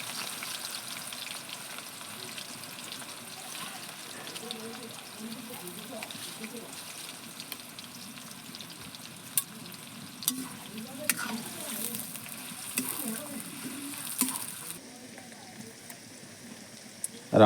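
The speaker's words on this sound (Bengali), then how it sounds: "পেঁয়াজগুলো ভেজে নিই" Onions frying in hot oil for a meat curry, a steady crackling sizzle that is close and moderately loud, with occasional stirring clicks and a faint background voice in places, the frying quieting abruptly near the end.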